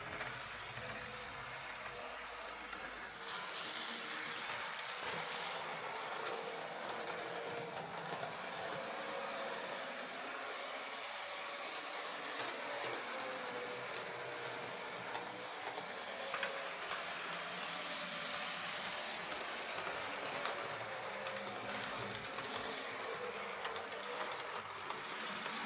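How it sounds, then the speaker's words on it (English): A model train locomotive runs on a hobby layout track, giving a steady, continuous mechanical whir and rail hiss with faint rhythmic clicking throughout, moderately close with no talking. "that's some of the other locomotives I've been working on recently"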